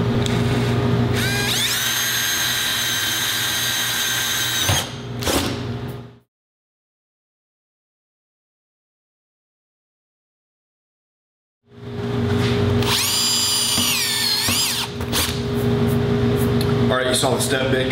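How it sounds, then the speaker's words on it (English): A handheld power drill fitted with a step bit bores a hole through steel, its high-pitched whine and grinding running loud in two bursts separated by a stretch of silence, with brief speech between. "so we're going to go ahead and get this hole drilled."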